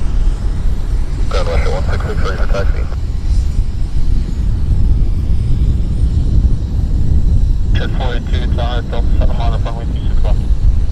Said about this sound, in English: Citation landing